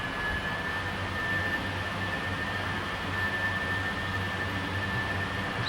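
A McDonnell F2H-2 Banshee jet in Flight Simulator 2020 taxis over grass, giving a steady, close engine roar with a thin high whine held throughout, without any break.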